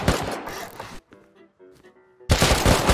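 Gunfire in the video game Rust: two loud bursts of rapid automatic fire, one at the start and one at the end, with a short gap of quieter game sounds between.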